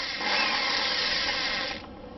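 A cordless screwdriver spins a pointed tile drill bit during repair of a Hotpoint Ariston gas stove tap, giving a loud, steady whirring drone for almost two seconds before winding down.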